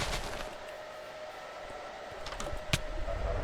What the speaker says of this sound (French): mon clavier qui bug qui m'empêche de taper le double sprint